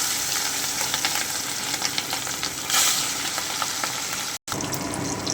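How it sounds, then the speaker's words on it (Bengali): Hilsa fish pieces sizzle and crackle steadily in hot oil in a wok over lowered heat. The frying is loud and close, with dense spitting pops, one brief cut-out and no voices. "এবারে আমি মাছগুলোকে দিয়ে দিচ্ছি, আঁচটা কিন্তু একটু কমিয়ে দিচ্ছি"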